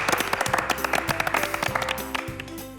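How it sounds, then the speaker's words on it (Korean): A small group claps to open a seventh-anniversary show, a brief run of distinct hand claps close to the microphone over a musical background. "박수 한번 치고 시작하시죠"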